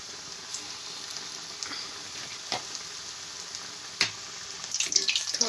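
Bread pakoda dropped into hot oil, a steady bright sizzle that swells louder toward the end with crackling spatters, close up and with no talking.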